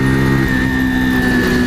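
A Mash Roadstar 50 motorcycle engine drones steadily at a high, sustained pitch while accelerating, loud and close, with no talk over it.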